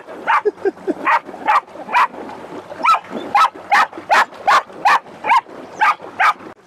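A dog barks repeatedly and loudly close by, a steady series of about fifteen sharp barks in quick succession.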